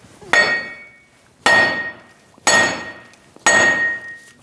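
Four loud metallic hammer blows strike a steel front steering knuckle on a 2001-2006 Chevrolet Silverado 2500 HD at roughly one-second intervals, each ringing out briefly before the next hit.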